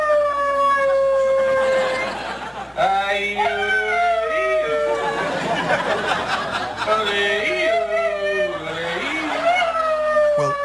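A dog sings along in long, wavering howls that bend up and down in pitch, with musical accompaniment underneath, loud and sustained with brief breaks between phrases.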